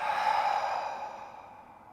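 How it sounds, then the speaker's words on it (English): A single deep, breathy exhale during yoga breathing, close and steady, slowly fading over about two seconds. "Take in lots of air. Let it out as you exhale."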